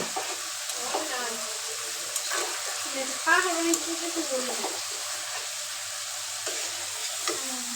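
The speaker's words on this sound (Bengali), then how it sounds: "এটা হচ্ছে আমি চিকেনটা কষা করে নিতেছি" Chicken sautéing in spices for tehari gives a steady, broad sizzle from start to finish, with occasional scrapes and stirring clinks rising over the constant frying hiss.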